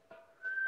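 A person whistles a single sustained, steady note during a Kundalini yoga breathing exercise, rising in loudness toward the end after a brief breathy onset; short and close.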